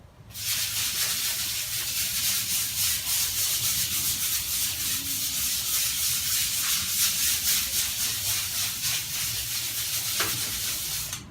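Sanding one side of an Aliens arcade cabinet during restoration, a steady loud rasping rub that continues without a break.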